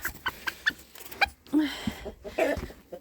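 A bantam hen clucks and croons in short bursts close by, with rustling and a few scratchy noises around her.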